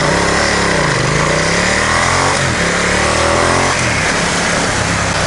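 Ducati XDiavel V-twin engine chugging at low speed in a high gear, a loud, continuous rough drone with slight dips and surges in pitch, heavily buffeted by wind noise, no talking.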